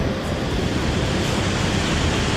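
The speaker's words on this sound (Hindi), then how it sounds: "एक झरना जो ऊपर तपोवन से आ रहा है" Fast-flowing mountain waterfall coming down from Tapovan on the Gangotri–Gaumukh trek, a loud, dense, continuous rush of water with no pauses, close by and filling the scene.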